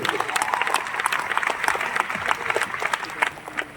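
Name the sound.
audience applause at an auditorium celebration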